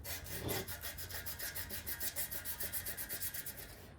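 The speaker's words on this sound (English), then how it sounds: "we're losing life out of the sandpaper, but that's okay" Sandpaper rubs back and forth on a part of an Apollo RFZ 110 pit bike during cleanup, a quiet, steady rhythmic scratching with evenly spaced strokes.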